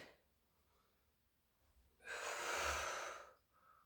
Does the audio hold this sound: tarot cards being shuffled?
no